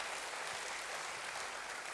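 A congregation claps for God during a church sermon: dense, steady applause fills the whole stretch, soft and somewhat distant, with no clear voices over it.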